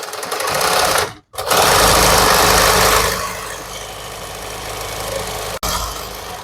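A sewing machine stitches a rectangular cotton cord basket, a loud close mechanical whir that pauses briefly, resumes strongly, then runs on at a lower, steadier level before a tiny break.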